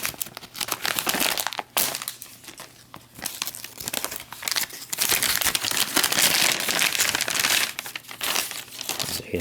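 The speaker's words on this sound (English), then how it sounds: "Going to tear the top off the bag." The top being torn off an XMRE meal bag, with loud crinkling plastic and sharp ripping bursts up close, continuing as the bag is handled for several seconds.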